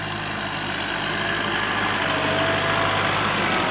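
A tractor engine idles steadily nearby with a constant low rumble and no change in pace.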